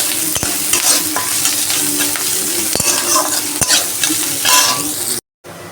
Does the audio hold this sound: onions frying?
yes